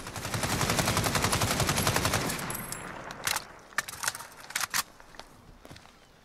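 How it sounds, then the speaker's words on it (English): A suppressor-free AKS-74U in Call of Duty rattles off a loud, rapid full-auto burst for about two seconds, followed by scattered single shots and clatter, with no talking. "So here's the AKS-74U without a barrel attachment on it."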